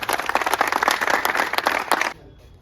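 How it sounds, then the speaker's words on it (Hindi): Loud, brisk clapping from a group honoring push-up challenge winners, many hands beating rapidly together before cutting off abruptly near the end, leaving quiet. "अपने लिए और इन लड़कों के लिए जोरदार तालियां।"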